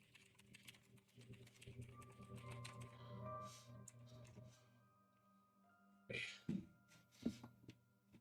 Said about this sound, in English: Yes, I have a mechanical keyboard deal with it.